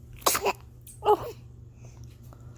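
A baby sneezes twice in quick succession, close and fairly loud, over a low steady background hum.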